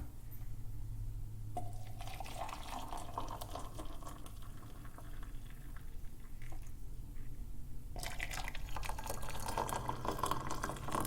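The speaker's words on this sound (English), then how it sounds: "I'm gonna pour us a cup of tea" Tea pours into a cup in a quiet room, a soft continuous liquid trickle with faint drips, heard alone without talk and growing slightly brighter toward the end.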